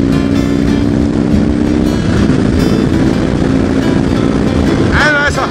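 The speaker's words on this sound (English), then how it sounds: "And that's 100 miles an hour right past them right there." A motorcycle overtaking at about 100 mph on a road in Mexico, a loud, continuous engine drone with a rising whine and rushing wind throughout, close to the microphone.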